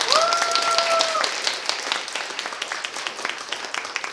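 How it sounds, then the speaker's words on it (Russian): Audience at a young scientists' science slam applauding the organizers, steady crowded clapping in a hall that fades gently, with a brief sustained tone near the start. "Аплодисменты организаторам!"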